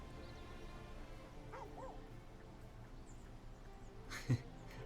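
A dog in the video game Baldur's Gate 3 gives a faint whimper and soft yips, ending in one short, louder bark near the end over a quiet background.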